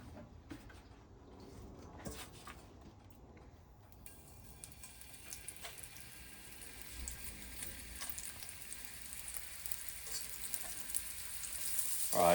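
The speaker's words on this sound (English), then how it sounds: "This pan is cast iron and very hard. We give it a little bit of oil. Now we add our meat." Meat dropped into hot oil in a hard cast iron pan starts a crackling, spattering sizzle that builds and thickens after a few seconds of quieter clatter, steady and close, ending with a louder burst.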